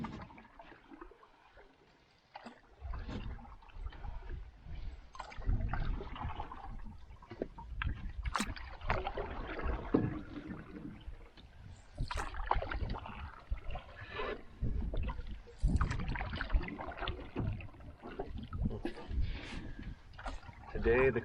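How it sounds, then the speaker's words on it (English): A solo canoe paddled on a Boundary Waters lake on an overcast day: repeated close paddle strokes and water splashes with light dripping, and a voice heard at times. "Today the canoe is tracking better when I paddle on the left for some reason."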